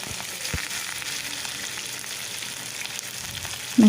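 Onion and curry leaves frying in a pan make a loud, continuous close sizzle with a brief clatter near the start and a short stirring knock at the end.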